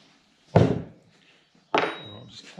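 Rusty bolts on a fishing boat are cut off with a chisel: two heavy, separate thudding blows about a second apart, each with a short ringing tail, close and loud against near silence.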